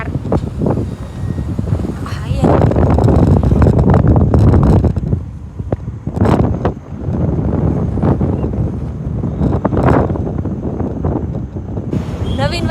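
Strong wind buffets the microphone outdoors, a loud low rumbling roar that swells and eases in gusts, with a voice faintly present at times.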